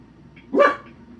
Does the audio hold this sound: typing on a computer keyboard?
no